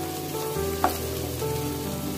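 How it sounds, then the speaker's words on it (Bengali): Onion and garlic fry in a pan, giving a steady soft sizzle with a brief clatter of stirring partway through, and no voices. "পেঁয়াজ রসুন ভালো করে ভেজে নিব।"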